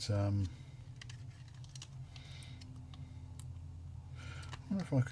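Rubber membrane keyboard being peeled off a Cambridge Z88 computer, giving a faint run of soft clicks and crinkly tearing over quiet room noise, with a couple of louder handling knocks at the start and end.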